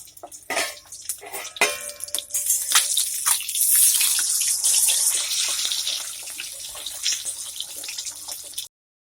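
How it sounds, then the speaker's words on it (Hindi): Eggs frying in hot oil in a pan while being turned, a continuous crackling sizzle with sharper clinks and scrapes of the utensil early on, close and fairly loud. "अब इसे हम पलटते हुए फ्राई करेंगे।"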